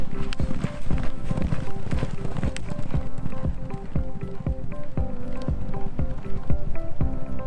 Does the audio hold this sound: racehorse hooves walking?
yes